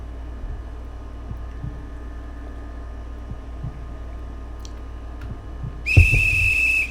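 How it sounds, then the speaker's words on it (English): A single sustained, bright whistle blast starts a reindeer race in the video game Reverse: 1999, sounding near the end over a low, steady background hum. "The whistle blows, cheers erupt, and a cloud of snow bursts up beneath the reindeer's hooves."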